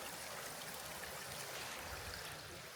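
Water runs steadily near a waterfall outdoors, a soft, even rushing and trickling like a small stream, continuous and fairly quiet throughout with no voices.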